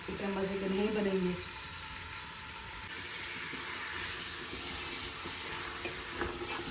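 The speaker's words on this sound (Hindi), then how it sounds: "हम तकरीबन 10 मिनट के लिए अच्छे से भूनेंगे" Mutton trotters (paya) frying in a pan, a steady, even sizzle running throughout, with a voice speaking briefly over the start before the frying carries on alone.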